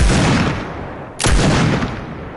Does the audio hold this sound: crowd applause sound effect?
no